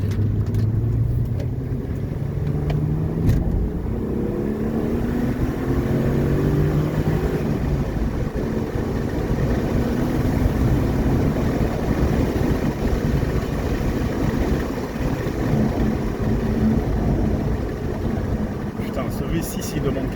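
A Hyundai Coupé V6 FX's engine drones and pulls steadily while driving, a loud, continuous low rumble that swells under load, with a voice faintly present at times.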